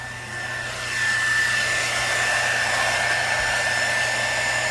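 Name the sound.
heat gun embossing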